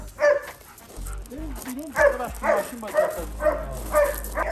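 A pit bull gives short, excited barks and whimpering yips in quick bursts, close and fairly loud, mixed with people talking over it.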